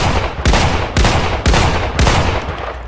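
Rapid shotgun blasts in the video game Islands of Nyne: four loud, punchy shots spaced about half a second apart, each with a booming low thump and a short trailing decay, no talk.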